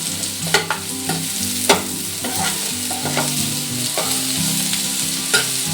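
Mushrooms stirred into golden fried onions in a pan, with steady sizzling and repeated scrapes and clinks of the spoon against the pan, close and fairly loud; background music plays underneath.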